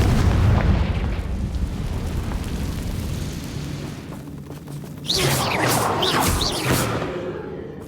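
Confringo blasting spell from Hogwarts Legacy bursting into a loud close explosion with a rumbling boom, then a second burst of sharp crackling debris and whooshing bangs.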